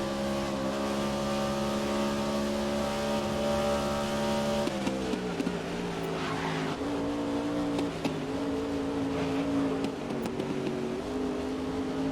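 Race cars in the GRID (2019) racing video game, a sustained engine drone with harmonic whine that shifts pitch as gears change and revs rise and fall, steady and close with no talking.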